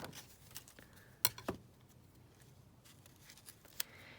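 Scissors snipping paper for a collaborative art journal, a few short crisp cuts at close range, quiet and alone with no talk.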